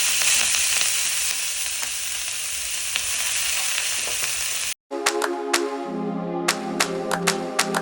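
Loud, steady sizzle of ginger garlic paste frying in hot oil with asafoetida for paneer ghotala, then after a brief cut a quieter sizzle with sharp clicks and scraping stirs over a low hum.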